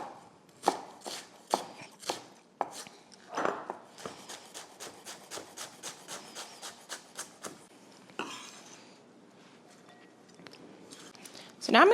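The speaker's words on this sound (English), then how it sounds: "I'm gonna chop this way finer than I chopped the spinach" Shallots being finely chopped with a knife on a board, giving a fast series of sharp, close taps that slows and stops near the end, with a scrape and a short rustle between runs.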